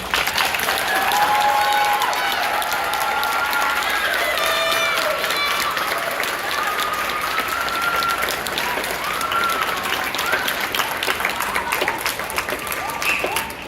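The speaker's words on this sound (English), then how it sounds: "Let's give them one more round of applause." Loud, sustained applause fills a hall at a nursing pinning ceremony, dense clapping from a large crowd of friends and family with cheering and voices woven through it.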